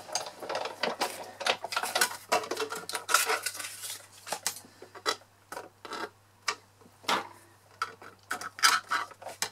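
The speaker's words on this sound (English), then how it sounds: "So quick run through my machine with that one." A manual die cutting machine for paper crafts cranks a die cut through, giving a close run of irregular mechanical clicks and ratcheting ticks, busier at first and then sparser, with no voices.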